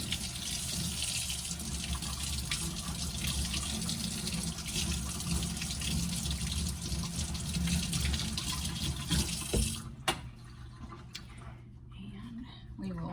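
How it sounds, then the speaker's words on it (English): Water gushes steadily from a kitchen tap as hands are washed during cookie baking, a loud, close hiss that runs for about ten seconds before the tap is shut off, leaving quiet clinks. "let me wash this off my hands"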